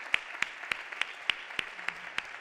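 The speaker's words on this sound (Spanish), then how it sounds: "Bueno, podéis aplaudir, si queréis." A few sparse, distinct hand claps from a small audience at a gastronomic marketing talk, spaced irregularly and fairly faint, with no talking over them.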